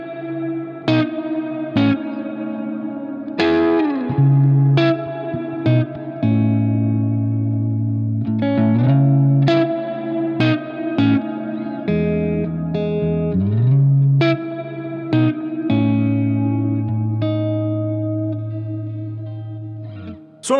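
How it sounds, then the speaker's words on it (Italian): An electric guitar plays through a Universal Audio reverb pedal on its ambient setting, giving sustained chords and notes with long, washy tails and shimmering modulation that ring continuously, close and loud, with no talking. "Ultima posizione, quella verso il basso, e potete ottenere un suono un pochino più ambient."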